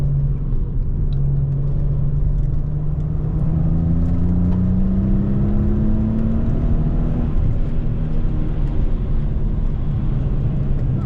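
A 2016 Maserati Ghibli S Q4 sports sedan accelerates with a loud, steady engine drone whose pitch climbs smoothly for several seconds before levelling off, heard close with no talking.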